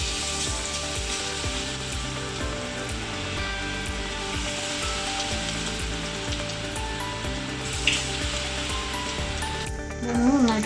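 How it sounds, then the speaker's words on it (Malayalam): Cauliflower frying in hot oil in a pan, a steady close sizzle and crackle with no pause, and a brief utensil clatter near the end. "കോളിഫ്ലവർ ഫ്രൈ ചെയ്തെടുക്കാം"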